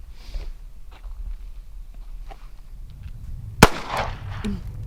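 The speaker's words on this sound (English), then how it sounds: "we're just getting used to the gun going off" A pistol fires once during a shooting class, a single sharp, loud crack partway through with a brief echoing tail, set against a quiet outdoor background with faint shuffling.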